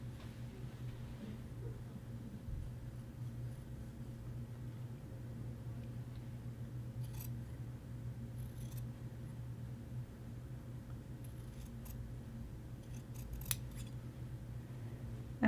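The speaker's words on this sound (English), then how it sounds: "the collar band facing is going to get trimmed down to 1/4 of an inch" Scissors snip through shirt collar band facing fabric, a series of faint, sharp clicks spaced unevenly across a quiet room with a steady low hum.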